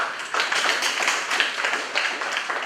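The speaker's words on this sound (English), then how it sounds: "Let's please clap for them." Audience at a university business symposium breaking into steady clapping, a dense patter of many hands at moderate distance, fairly even throughout without voices.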